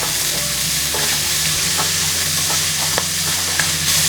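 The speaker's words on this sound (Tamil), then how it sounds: "ஒரு 2 நிமிஷம் வெங்காயம் வந்து நல்லா வறுபடட்டும்." Chopped onions sizzle and fry steadily in a pan while being stirred, with occasional scraping clicks of the spoon over a continuous close, loud frying hiss, for a traditional lentil breakfast dish.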